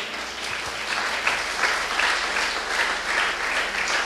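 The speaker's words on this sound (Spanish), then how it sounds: "merece un aplauso" An audience applauds during a Spanish-language religious talk, with dense, steady clapping that holds at an even level for about four seconds.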